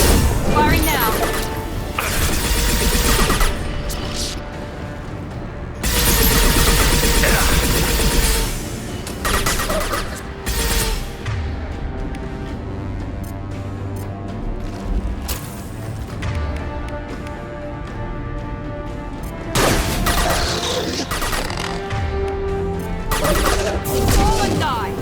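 Mass Effect 2 weapon gunfire in loud sustained bursts, several rapid volleys separated by short quieter gaps, with game speech and effects in between.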